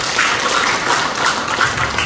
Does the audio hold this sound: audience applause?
yes